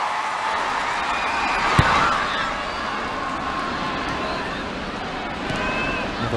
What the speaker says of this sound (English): Another big, big crowd here at JELD-WEN Field